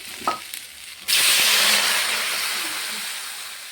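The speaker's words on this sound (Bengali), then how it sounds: "এখানে আমার মশলা দিয়ে সবজিটা কষানো হয়ে গেছে। এখন দিয়ে দেব জল।" Water poured into a pan of spiced vegetables sautéed with green chili paste sets off a sudden, loud burst of sizzling and hissing steam that slowly fades over several seconds, after a few faint clinks.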